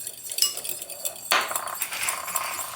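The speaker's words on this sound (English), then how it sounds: "I'm just gonna keep whisking it." A whisk clinks and scrapes against a bowl while stirring a melted mixture for homemade tortillas, with quick metallic taps and a sharper burst partway through, close and alone.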